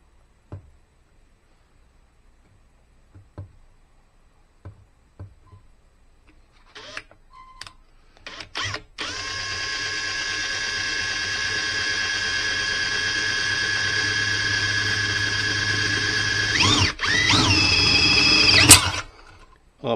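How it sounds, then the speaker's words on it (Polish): An electric drill whines steadily for about ten seconds as it bores a hole into a motorcycle exhaust, rising in pitch near the end before stopping, after a few light clicks and taps. "Dobra, wiercę."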